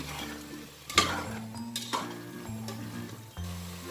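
Potatoes being stirred in a pot for biryani, with a few scattered scraping and clinking knocks over a low, steady background hum and a soft sizzle; nobody speaks.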